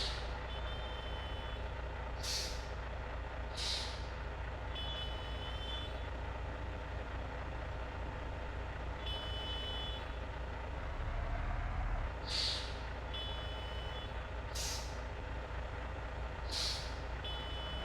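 A Tata truck backing up on a steep mountain road with heavy traffic: repeated reversing beeps sound at intervals over a steady, loud diesel engine rumble, with a deeper surge partway through.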